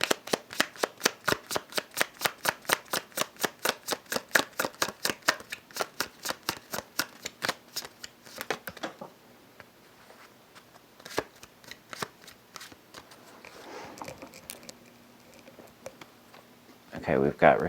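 Earthbound Oracle cards are shuffled in a rapid, steady riffling patter for about nine seconds. Sparse card handling and a few soft taps follow, then a brief louder rustle at the end.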